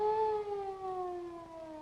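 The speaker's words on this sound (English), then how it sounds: "That sounds like a police car to me." A distant siren from a 1930s film soundtrack wails in a slow, falling tone and fades over a couple of seconds at low volume.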